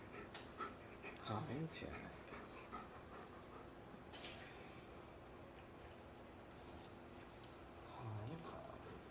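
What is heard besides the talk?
puppies panting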